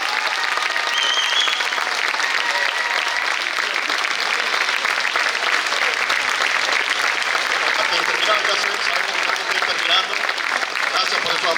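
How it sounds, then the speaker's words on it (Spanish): Applause from an audience after a set of Mexican folk songs fills the hall. Many hands clap steadily and loudly for several seconds, with crowd voices mixed in underneath. "Gracias por esos aplausos."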